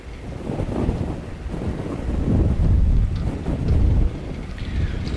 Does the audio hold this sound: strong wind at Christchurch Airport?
yes